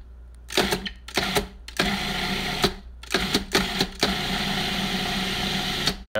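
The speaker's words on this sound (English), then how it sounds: "we put everything in the food processor, and now we just process it for a very short time on pulse" A food processor pulses minced meat with kafta seasonings in short, loud whirring bursts, several quick stop-start pulses followed by one longer continuous run that cuts off abruptly.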